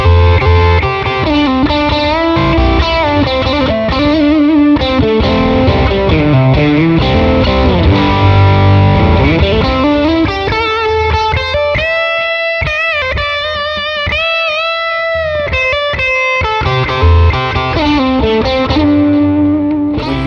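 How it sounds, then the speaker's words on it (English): A Fender Parallel Universe American Elite Telecaster plays with heavy distortion through a delay that makes the notes echo, moving from chunky chords into ringing single-note lines, continuous and loud. "now I'm gonna play a little bit of distorted tone for you"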